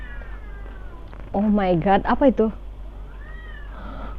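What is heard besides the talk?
cats fighting and yowling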